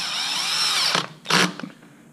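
A power tool whines steadily, then gives two short bursts while tightening a nut on a motorcycle top box mount, close and loud.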